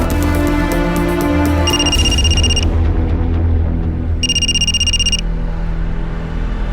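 A telephone rings in a police crime drama with two separate bursts of bright electronic trilling. The rings sit over a loud, low background drone.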